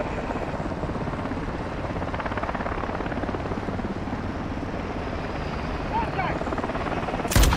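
A helicopter in Modern Warfare 2 gives a continuous rotor chop and engine drone throughout, with game voices and speech over it and a sharp burst at the very end.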